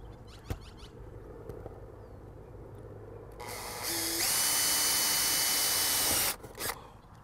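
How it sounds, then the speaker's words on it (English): A power drill whirs loudly for a few seconds, drilling starter holes into a roof, spinning up then steady before stopping, over a quiet outdoor background with a couple of small clicks. "I'm gonna drill a couple of holes in here"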